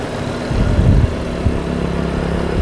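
Opel Blazer car engine running steadily with a low rumble, swelling briefly as if revved around the middle and again shortly after, close and fairly loud throughout.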